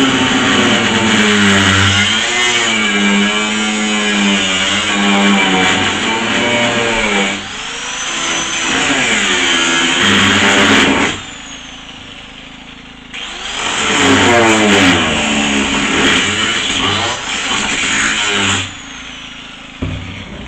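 An angle grinder cuts through rusted metal in a bus floor, whining loudly at close range in long sustained passes that dip and spin back up between cuts, with no talking.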